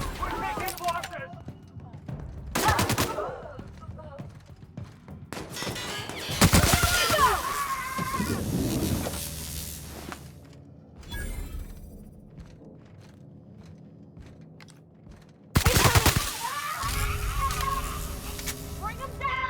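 Bursts of weapon fire in the sci-fi video game The Outer Worlds: Spacer's Choice Edition, with loud rattling volleys that come and go over a steady background buzz, mixed with shouting voices.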